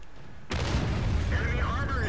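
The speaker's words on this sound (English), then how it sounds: "that was a very close hit from artillery that took my tracks off" A close artillery shell impact beside a tank in World of Tanks, an abrupt loud boom cutting in halfway through, followed by a sustained rumbling roar and metallic clatter, with a voice faintly underneath.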